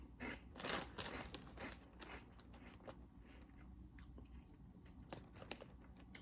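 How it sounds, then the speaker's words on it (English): Crunchy Optavia cruncher snacks are bitten and chewed close up, giving a string of quiet, crisp crunches in irregular rhythm with no talking. "now I'm going to have my 3rd fueling, these crunchers"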